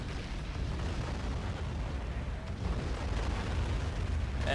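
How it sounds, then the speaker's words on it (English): Artillery strikes explode in the video game Sudden Strike 3, a sustained, rumbling roar of overlapping blasts and bursts at moderate level that grows slightly heavier toward the end. "I'm gonna target artillery strikes on these locations"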